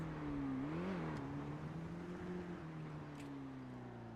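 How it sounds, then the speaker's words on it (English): A car engine in a roleplay video game revs with a steady droning hum, pitch rising and dipping briefly early on before holding level, fairly faint and alone. "That car is loud as hell."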